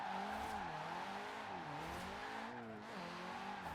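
Car sliding sideways in a Forza Horizon 4 drift setup, engine revving steadily with wavering pitch and a continuous tire squeal throughout, loud and close.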